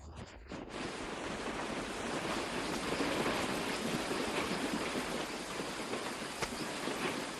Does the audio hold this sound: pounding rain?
yes